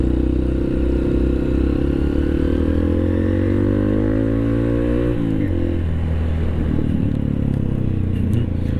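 A jeep grinds down a steep rocky descent toward the Bromo sand sea, its engine droning loud and steady with a pitch shift midway as gears change, while rocks clatter and scrape beneath the tyres.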